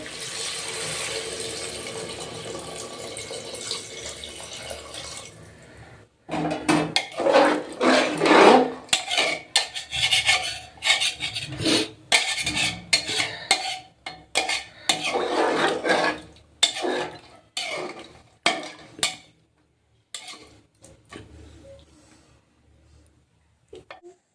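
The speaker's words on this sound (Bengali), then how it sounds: "আলু আর চর্বিটা দিয়ে আর একটু কষিয়ে নেবো ভালো করে" Potatoes and mutton fat being stirred and sautéed in a pressure cooker pot for mutton curry. After a quiet start, a spoon scrapes and clatters against the metal in irregular bursts, close and fairly loud.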